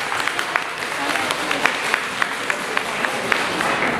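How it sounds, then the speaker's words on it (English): Steady applause from a crowd at a teen beauty pageant, with sharp individual claps standing out over a dense wash of clapping throughout. "Give the candidates a round of applause for their powerful messages."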